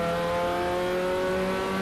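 Mini Challenge Clubsport race cars at Donington, an engine note held loud and steady with strong harmonic whine as the cars run through the chicane under braking, close and continuous throughout.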